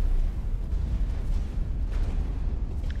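An explosion in the space game X4: Cradle of Humanity gives a sustained, heavy rumbling boom that stays loud and low-pitched, with crackling bursts over about three seconds.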